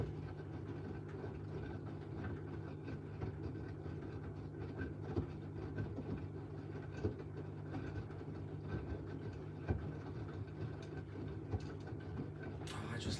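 An LG Direct Drive washing machine in its rinse and spin cycle, clothes sloshing inside the drum amid a steady low mechanical rumble and hum, continuous and fairly loud, with no talking.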